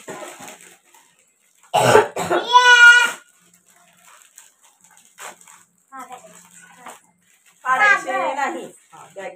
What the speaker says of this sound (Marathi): मला एकतर खोकला होतोय खूप